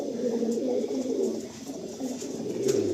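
Pigeons cooing close by at a pigeon breeder's loft in Behala, low rolling coos repeating steadily through the clip with no talk over them.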